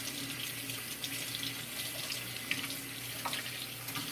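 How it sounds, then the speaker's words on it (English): A kitchen tap runs steadily into a sink while a lid is washed under it, giving a constant close splashing rush with small clinks and spatters and no talk. "Gotta wash the lid."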